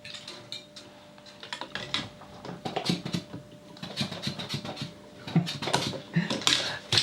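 A dog, a guardian dog in a workshop where a Marshall JTM-45 guitar amplifier is being repaired, slobbers and chews wetly on a toy nearby, giving irregular smacking, clicking bursts over a faint steady hum, with no talk.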